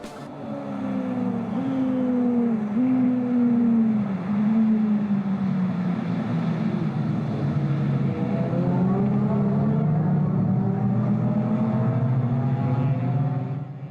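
Classic race cars at the Estoril circuit during a 2019 Portuguese speed championship race, engines roaring loudly and continuously, with rising and falling pitch sweeps as several cars accelerate and pass close by.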